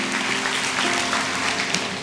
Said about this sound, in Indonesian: kasih tepuk tangan deh untuk Tuhan